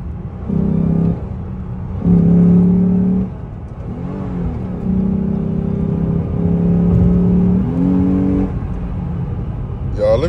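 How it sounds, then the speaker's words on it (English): A supercharged Lexus GS 350 engine revs and pulls hard from inside the car in bursts, a steady whine rising and falling under loud voices talking over it. "y'all hear that. That supercharger"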